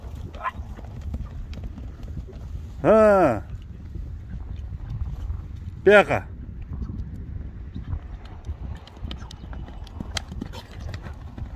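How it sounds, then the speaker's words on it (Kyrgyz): A horse gallops with hooves clip-clopping steadily through the clip, two loud whinnies breaking in near the start and middle, while people talk nearby. "Атты узун узатасынан чапчы."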